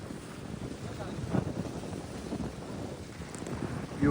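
Strong wind buffets the microphone near a dam's open water in Manmad, a steady low rumbling roar with gusts swelling louder near the end.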